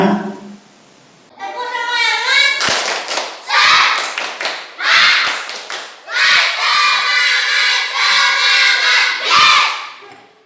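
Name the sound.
children doing a 'tepuk semangat' spirit clap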